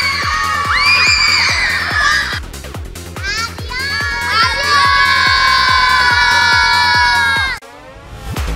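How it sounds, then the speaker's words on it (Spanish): Children scream and shriek wildly in shrill, swooping bursts, close and loud, over a steady rhythmic thumping beat before falling briefly quiet near the end. "los niños gritan como locos"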